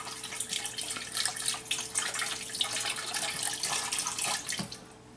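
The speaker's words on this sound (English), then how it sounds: "Going to put beef broth in there" Beef broth, about two cups, pours into a pot for a pot roast, giving a soft, continuous splashing trickle that stays steady and fairly quiet for several seconds.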